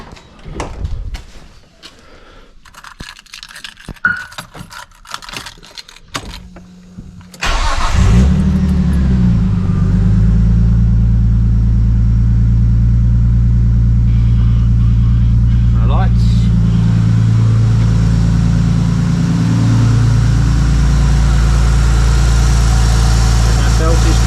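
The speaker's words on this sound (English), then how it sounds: "I'll start the car." A Nissan R33 Skyline starts after some clattering workshop handling, then the engine fires and settles into a loud, steady, close idle with a brief blip partway through.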